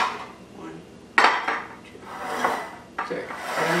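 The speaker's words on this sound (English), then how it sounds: "And then you're going to get your baking pans." Metal baking pans clatter and scrape as they are picked up and set down in a home kitchen, with a few sharp knocks among softer rubbing and sliding sounds, close by and without talk.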